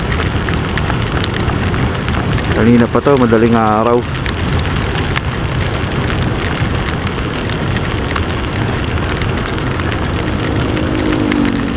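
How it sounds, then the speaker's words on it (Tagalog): Heavy rain keeps falling steadily on a road in the countryside, a loud, dense wash with no breaks. Someone talks briefly over it. "Tuloy-tuloy pa rin talaga yung ulan guys."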